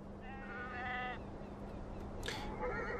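Sheep bleat in the video game Beyond: Two Souls, with one clear, wavering bleat and then a short, sharper animal cry over a steady low hum.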